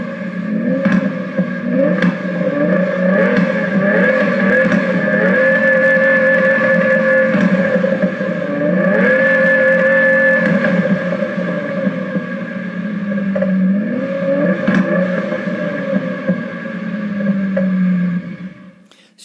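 Simulated engine note from a Sturmkind DR!FT Racer toy car with the higher-RPM boost setting, a loud buzzy tone that climbs and falls in pitch as revs rise and drop repeatedly over about twenty seconds, with no talking.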